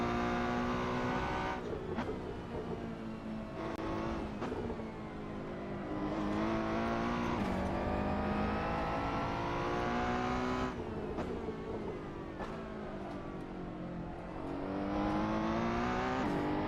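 The Ferrari 488 Challenge race car's engine in Assetto Corsa revs hard and steadily, with a few short-shifted upshifts that each drop the pitch before it climbs again, loud and close throughout.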